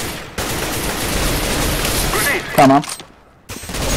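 Bursts of rapid gunfire from the video game CS:GO fill most of the moment, then cut out sharply; a player's voice speaks briefly over the shooting.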